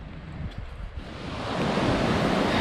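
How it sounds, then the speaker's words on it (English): Steady broadband rush of Zealand Falls, the upper portion of a mountain waterfall on the Zealand-Bonds traverse, roaring close and continuous, swelling slightly louder partway through, with no voices. "So this is Zealand Falls."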